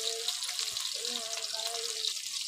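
Chopped onion, cardamom and bay leaf fry in hot oil with a dense, steady sizzle close by, and a few faint tonal clinks rise through the hiss.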